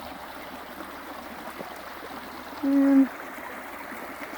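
A creek flows steadily across a rural property, a soft, continuous trickle and gurgle running the whole length, with a brief low mechanical tone partway through and one short spoken word.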